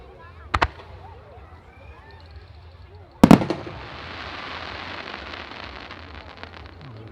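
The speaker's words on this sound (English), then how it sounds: "we're going to start with a crackling ring with a glittering ring as well" Italian Sampio firework shells burst at a festival demonstration: two sharp booms, the second followed by a long, dense crackling and glittering sizzle that fills the rest of the sky.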